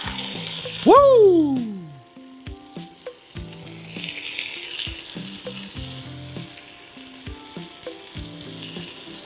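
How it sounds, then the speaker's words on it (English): Beef shanks for osso buco hit hot olive oil in a pan and sizzle loudly and steadily, with spatter crackles throughout and a brief excited voice near the start. "You're gonna hear that sizzle."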